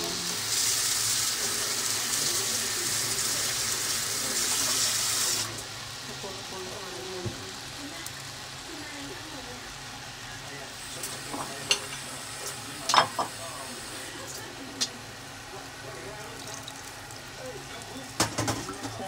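Coconut milk poured into a pot of crab with squash and long beans, a loud steady sizzle for the first few seconds, then a softer simmer with scattered clinks and stirring taps.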